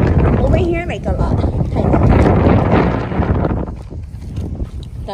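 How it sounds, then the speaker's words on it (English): Strong wind buffets the microphone outdoors at a park, a loud roaring rumble that swells and eases, with people talking underneath. "So it's like extra windy right now."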